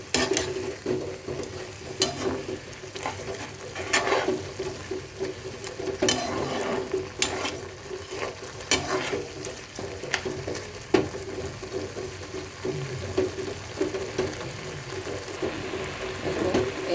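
Carrot halwa with sugar stirred in a pan as it cooks: a spoon scrapes in repeated strokes about every second or two over a soft, continuous sizzle, at a moderate, close level.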